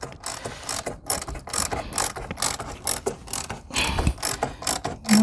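A socket wrench ratcheting as parts of a Chapin 8400C spreader are tightened, giving rapid clicking bursts in uneven strokes with brief pauses between them, close and fairly loud.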